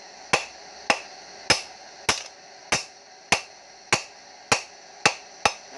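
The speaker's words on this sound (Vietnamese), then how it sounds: "Sau khi nắn thẳng xong mình sẽ đàn nguội con dao." Steady hammer blows on a knife forged from an old car leaf spring, cold-hammered to harden it: ten sharp metallic strikes at an even pace of about two per second, close and ringing briefly, with no talk.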